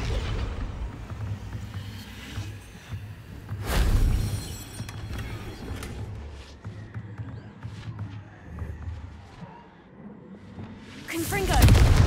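The Confringo explosive spell in the Hogwarts Legacy video game lets out deep, booming blasts, a loud one near the start and another at the end, over a rumbling game soundscape with a voice now and then.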